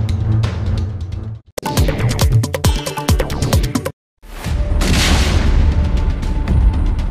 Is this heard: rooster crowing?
no